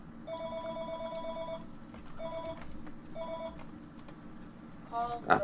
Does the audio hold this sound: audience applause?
no